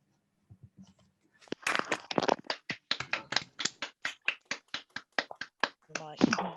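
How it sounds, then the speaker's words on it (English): Participants in an online postnatal workshop clap for Anna over unmuted microphones, a run of fairly even claps lasting several seconds after a few faint sounds, ending with a brief voice. "everyone unmutes themselves and gives Anna a clap"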